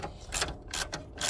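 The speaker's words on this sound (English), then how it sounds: "Now we just gotta tighten up this bolt and nut for the" A hand ratchet tightens the bolt and nut of a car's shock absorber, giving quick metallic clicking strokes in a few short bursts, close by and fairly quiet.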